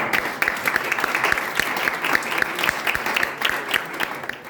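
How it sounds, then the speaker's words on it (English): Members at a Toastmasters club meeting give a round of applause, a lively, fairly close patter of many hands with distinct individual claps standing out, steady and unbroken for several seconds. "a round of applause for Toastmaster"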